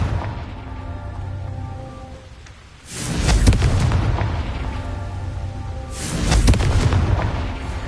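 A Confringo explosion spell in the video game Hogwarts Legacy sets off two loud, deep booms a few seconds apart, each rolling into a long rumbling decay, over a faint background music bed.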